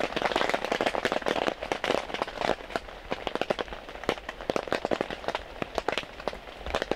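Rain falls on a campsite, striking a tent or tarp surface in irregular crackling taps and patters, close and fairly loud, with the dense drumming easing and returning in bursts.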